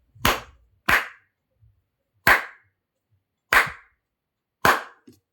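Five sharp hand claps, spaced roughly a second apart, ring out crisply and close in a quiet room to trigger an Arduino clap switch.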